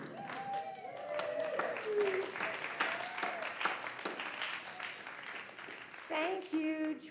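An audience at a Sunday celebration gathering claps steadily in a standing ovation, a continuous patter of many hands with voices talking and calling out over it.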